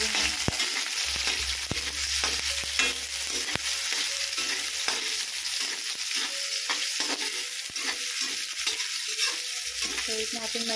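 Sliced tomatoes frying and being stirred in a pan at breakfast, a steady close sizzle broken by repeated scraping and clinking strokes of the spatula against the pan, with no talking.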